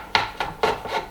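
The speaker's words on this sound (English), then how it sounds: "can take off the sharp edges of the top and bottom tapered pieces. I'll just use the chisel" A chisel paring sharp edges off tapered wooden bed pieces for a mortise and tenon Viking bed, four short scraping strokes in an uneven rhythm, close and crisp.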